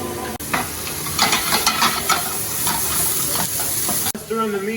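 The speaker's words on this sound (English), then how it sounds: "now we're going to add our onion and sage. Makes that nice sizzle," Chopped onion and sage sizzle and crackle steadily in a hot pan, with stirring scrapes throughout and a brief voice near the end.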